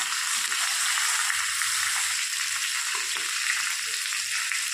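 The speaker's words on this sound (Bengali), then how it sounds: "এরকম করে লাল লাল করে সব মাছগুলোকে ভেজে নিয়ে আমি আপনাদের সামনে ফিরে আসছি" Fish frying in hot oil in a pan, a steady, even sizzle that stays loud and continuous throughout with faint low clatter beneath.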